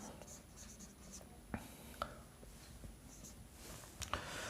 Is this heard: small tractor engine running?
no